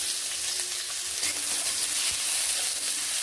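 Onions and chopped chili frying in hot oil for egg chow mein, a steady, close, loud sizzle with a constant hiss and no talking.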